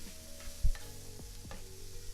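Garlic and Fresno peppers sizzle in hot oil during a stir fry, a soft, steady frying hiss with a brief thump as they go into the pan and a few light scrapes, heard up close.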